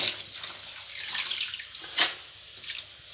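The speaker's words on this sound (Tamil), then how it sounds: "இந்த மாதிரி தண்ணி பிடிச்சி அதில் வந்து கீரையை போட்டு அலசனோம்னா" Water runs from a kitchen tap into a vessel for rinsing greens, a steady splashing gush close by with a brief louder surge midway and no voices.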